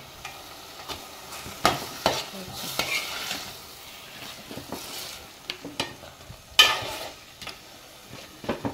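Marinated soya chunks go into masala in a pan, with a soft, low sizzle under repeated scraping strokes of a spoon. The stirring is close and comes in irregular bursts.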